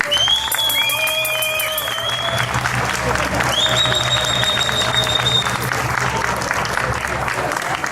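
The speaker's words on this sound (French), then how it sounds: "C'est maintenant applaudimètre, criomètre pour les consorts Helvéticus. Criez, applaudissez." An outdoor tournament crowd at a medieval troubadour festival in Gruyères claps and cheers loudly and steadily to vote, with whistles and shouts rising over the continuous applause.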